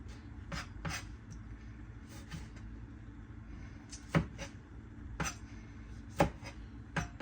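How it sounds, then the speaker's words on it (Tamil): Small tomatoes are cut on a board in a home kitchen, with a few sharp, separate knife chops spaced irregularly against a quiet background. "தக்காளியை கட் பண்ணி எடுப்போம். நான் சின்ன தக்காளி தான் எடுத்துருக்குறேன்."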